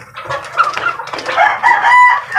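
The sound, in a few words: rooster crowing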